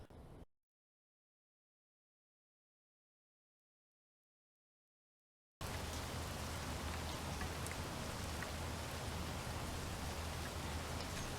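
Steady, dense rainfall from the video game Space Engineers, a broad even hiss with no distinct drops, starting suddenly after a stretch of near-silence and then holding at a constant level.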